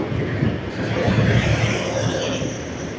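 Metro train at Kengeri metro station in Bengaluru, a loud, steady rumble that fills the whole clip without a break.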